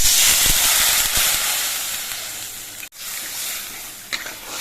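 Broth ladled into a pan of cooked spice paste for a papad kofta curry, giving a steady close sizzle and steamy hiss with a brief break and a few soft scrapes.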